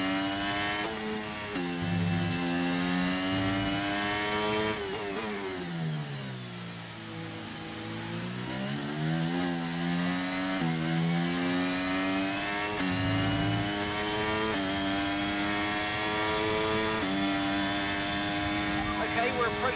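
An F1 car engine in the F1 23 racing game at the Australian circuit, revving high with whining harmonics that climb through gear changes, dip as it slows, then rise again, loud and steady throughout.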